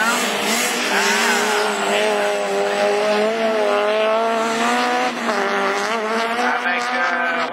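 Division 4 rallycross at Lessay in 2013, with an Audi A3 and a Peugeot 306 racing wheel to wheel. Loud, continuous high-revving engines whine and shift pitch, with a commentator talking over them.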